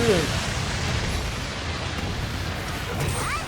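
Heavy, booming explosion effects from a Monster Hunter Rise: Sunbreak fight against Risen Teostra rumble and burst in quick succession, with loud crackling blasts filling the short stretch.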